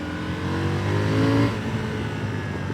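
A 2024 KTM 990 Duke motorcycle exhaust heard on the road as the bike decelerates, a steady engine drone whose pitch slides downward and then settles, loud and close with no talk over it.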